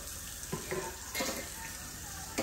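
Snow crabs and Dungeness crabs steam in a pot, a steady close hiss of steam with a few soft clinks and knocks, people talking quietly nearby.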